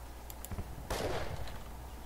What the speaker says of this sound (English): Uh-oh, we got fire.